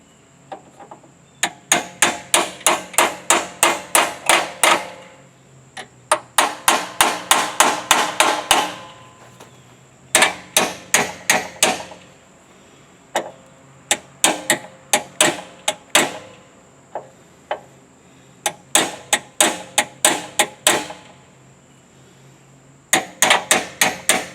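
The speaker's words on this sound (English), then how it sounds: "we have to get a hammer and smack at that a minute" A hammer smacks a part on a Trailmaster 150 XRX motorcycle in quick bursts of sharp metallic blows, several volleys of rapid strikes separated by short pauses, loud and close with no talk.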